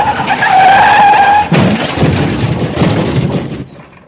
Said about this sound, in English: She saw the look of horror on the lorry driver's face just before she crashed into the side of his lorry.